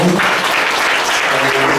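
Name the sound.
church congregation applause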